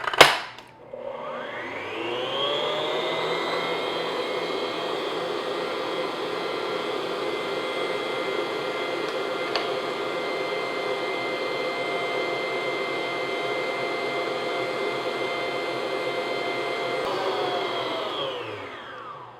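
An electric mixer beats egg whites at medium-high speed while sugar is added for an angel food cake. Its steady, close motor whine starts after a brief clunk, holds evenly for about seventeen seconds, then winds down.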